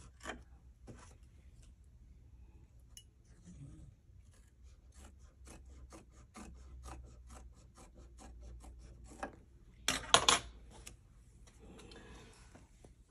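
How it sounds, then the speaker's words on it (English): Scissors trimming fabric held in an embroidery hoop for a pillow block, soft close snips and rubbing scrapes spaced irregularly in a quiet room, with a louder burst of handling noise partway through. "Turn the hoop when you're trimming."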